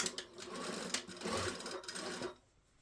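A sewing machine stitches down a trouser waistband, a steady close mechanical whirr running for about two seconds with a few sharp clicks, then stopping into quiet.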